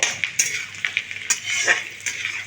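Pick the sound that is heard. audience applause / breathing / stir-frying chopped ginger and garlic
stir-frying chopped ginger and garlic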